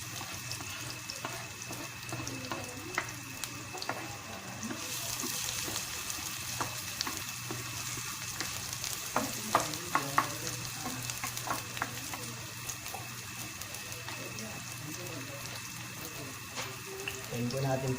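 Tomato and onion fry and get stirred for fish sarciado, a steady sizzle with intermittent spatula scrapes and clatter, while a voice speaks now and then.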